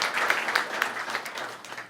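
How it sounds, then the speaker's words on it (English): An audience claps for a student's 4.38 GPA at a school district Student of the Month program, a moderate round of many hands, clearly under room ambience, with a couple of louder individual claps standing out. "Yes, you can clap for that."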